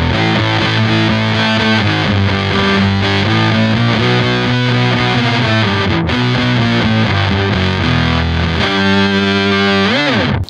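Electric guitar through a Prime Distortion pedal, bridge pickup, plays loud, heavily distorted sustained chords and riffs continuously, with a brief break near the end before ringing out.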